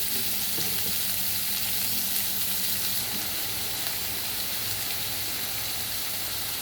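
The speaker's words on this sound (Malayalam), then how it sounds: "എന്നിട്ട് സവാള ചെറുതായിട്ട് കട്ട് ചെയ്തത് അതങ്ങ് ഇട്ട് കൊടുക്കാം. ഇളക്കി കൊടുക്കാം." Finely chopped onions for palak paneer fry in a pan with a constant close hiss and sizzle, while stirring adds light scraping near the start.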